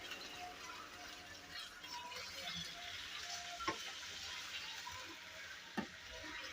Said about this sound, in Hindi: चिकन को इतना फ्राई करेंगे कि चिकन का कलर चेंज हो जाए।